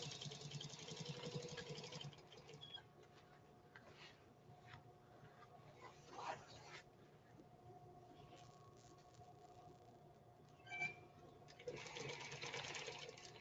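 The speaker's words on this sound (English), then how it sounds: "you also kind of need to be familiar with how a sewing machine should be working." A sewing machine runs in bursts, its rapid mechanical stitching rattle starting and stopping, with quieter pauses and clicks between runs, close and fairly faint.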